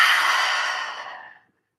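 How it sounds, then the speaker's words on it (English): Slow open-mouthed exhale from yoga breathing practice, a near, airy whoosh of breath held evenly before tapering away to silence, heard by itself with no speech. "Open the mouth, exhale."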